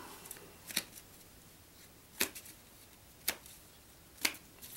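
Quiet, brisk riffling bursts of playing cards being shuffled, four or five short separate flurries spaced about a second apart, close and alone.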